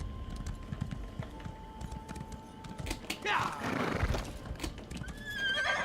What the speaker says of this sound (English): the horse in this game bucks because it's standing still